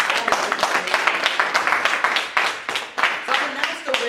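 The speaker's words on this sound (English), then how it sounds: "clap it up for yourself" An audience at a youth entrepreneurship final presentation claps enthusiastically, dense overlapping hand claps sustained throughout with slight surges and dips, close and fairly loud.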